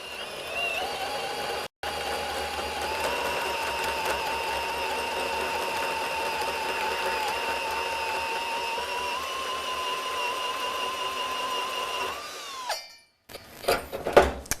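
A power tool cutting a saddle notch into a metal pipe runs as a loud, steady whine for about twelve seconds with one brief break, then winds down into a few clanks and knocks.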